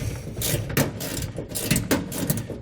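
Ratcheting and clicking of a wrench tightening the mounting fasteners of a Bright Way push-to-test trailer breakaway kit on a trailer, close and steady with repeated mechanical clicks and scrapes throughout.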